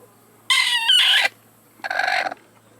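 A broody hen sitting on her own eggs gives two close, loud bursts of clucking, a longer call first and a shorter one about a second later, with quiet in between.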